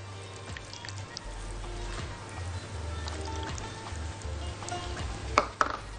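A spoon stirring softened onion and tomato with olive oil in a pan for a herring mixture, with a low, steady scraping and gentle sizzle and a couple of sharper knocks near the end.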